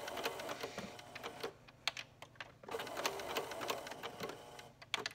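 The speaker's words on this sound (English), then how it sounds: "I'm going to sew a few stitches and then I will backstitch" A sewing machine stitching a zigzag seam with a backstitch on a headband or sleep mask: quiet, rapid clicking needle strokes in two short runs separated by a brief pause, close but faint.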